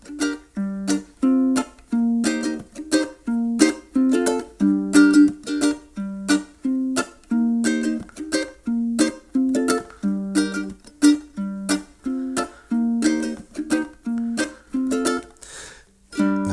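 A low G ukulele strums a lively, syncopated pattern with bright chords and plucked bass notes, steady and close, with no voices.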